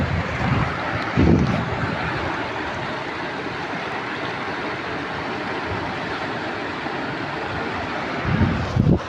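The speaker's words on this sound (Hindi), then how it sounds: "पानी आ रहा है बहुत ही तेज़" Fast-flowing flood water surges down a swollen river in a loud, steady roar, with a couple of brief low gusts or bumps rising above the constant rush near the start and end.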